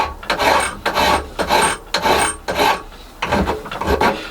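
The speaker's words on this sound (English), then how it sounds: "Just cutting spacers for the front axle to go between the bearings" Repeated rasping strokes of a file or hacksaw cutting metal spacers for a cyclekart front axle, about seven steady back-and-forth bursts in a close shed workshop with no talk.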